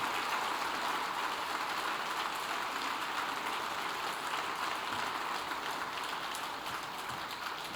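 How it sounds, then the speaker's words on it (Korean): A church conference gathering applauds to welcome newly admitted full members at a Methodist ordination ceremony, a steady distant patter of many hands that fades slightly toward the end. "연회원 여러분들께서는 박수로 환영해 주시길 바랍니다."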